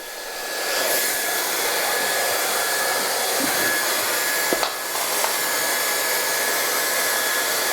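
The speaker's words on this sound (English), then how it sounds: "use your hairdryer like so." A hair dryer switches on and blows steadily with a loud whirring hiss, broken by a couple of faint clicks near the middle.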